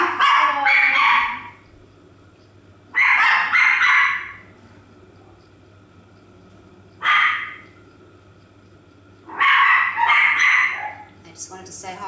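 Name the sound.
dogs barking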